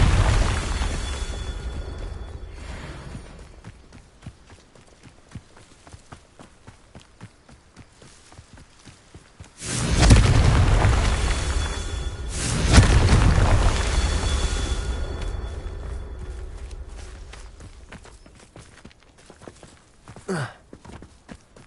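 A Confringo fire spell from Hogwarts Legacy blasts twice in quick succession, each a heavy booming explosion that rumbles and fades slowly, set against quieter ambient game noise with scattered clicks.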